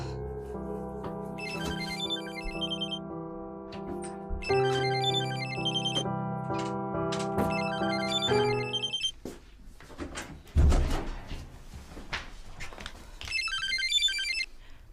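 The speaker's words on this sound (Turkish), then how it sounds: "Telefonun çalıyor." A phone plays a melodic ringtone in repeating phrases, pausing briefly with some rustling and a thud before the melody starts again near the end.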